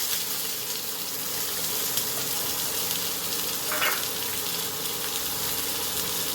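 Onions and curry leaves frying in oil for a spicy Goan prawn keema, a steady, close, even sizzle with a brief brighter crackle partway through and no voices.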